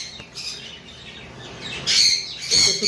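Sun conure parrots screech close by in harsh, high squawks that grow louder and denser toward the end, with no voices over them.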